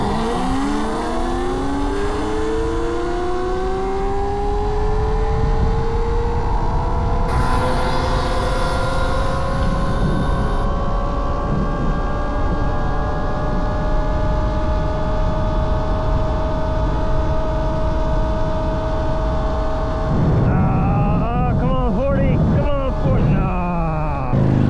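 EBOX Dragster electric bike at full throttle going slightly downhill, a loud steady motor whine climbing in pitch as it speeds up, with heavy wind rush throughout and a rougher burst near the end.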